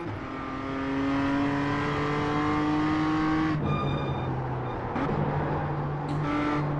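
A BMW M2 CSR race car in iRacing at Portland International Raceway drones loudly, then downshifts with a sharp drop and blip of revs before climbing again, engine alone without talk.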